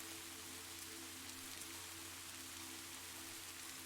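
Soft rain patters steadily on a window pane, a constant, even hiss of fine drops with a low hum underneath, quiet and unbroken throughout with no voices.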